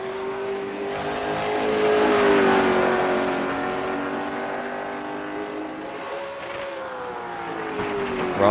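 Late model race car number 8 on a qualifying lap at Stafford, a sustained engine drone that swells as the car passes nearby, then eases and holds a steady pitch as it carries on around the track.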